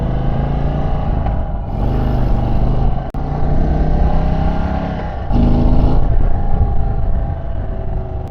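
An Indian Sport Chief motorcycle engine rumbles steadily at close range during a ride, a deep continuous drone with slight shifts in pitch as gears change.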